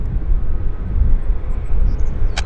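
Fixed-wing airliner at Vancouver Airport YVR, a steady, loud engine roar and rumble that holds throughout, heard from nearby on the ground without talking.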